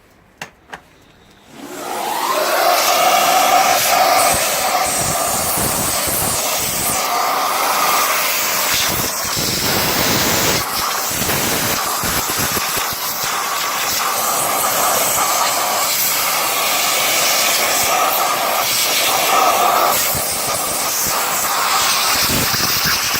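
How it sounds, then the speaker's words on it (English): A vacuum cleaner with a crevice tool switches on with a click and runs loudly and steadily while cleaning a 2009 Toyota Prado's vents and console, its whine shifting in pitch as the nozzle moves and gets blocked, no talking. "So then we go for the vacuum with the crevice tool."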